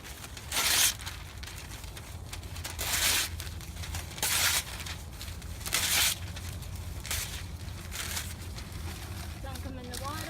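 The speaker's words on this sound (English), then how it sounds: "So I just use newspaper. And rip it into strips." Newspaper ripped into strips by hand for worm bin bedding, a series of sharp tearing bursts spaced a second or two apart, close and crisp over quiet room noise.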